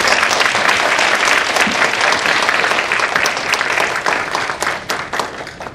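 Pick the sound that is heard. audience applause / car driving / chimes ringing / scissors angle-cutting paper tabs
audience applause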